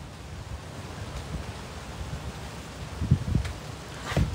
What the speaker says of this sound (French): Il y a tellement de vent ici.